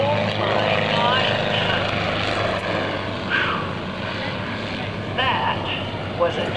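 A propeller aerobatic plane flies a tail slide at a 2000 airshow. Its engine drone rises and falls at a moderate distance under an announcer's loudspeaker commentary and crowd noise.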